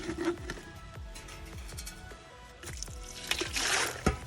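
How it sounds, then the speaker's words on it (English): Water being poured into a container for farm animals on a Jamaican farm, with uneven splashing and trickling that swells louder near the end, close by and heard alone. "I'm gonna put the water in this now"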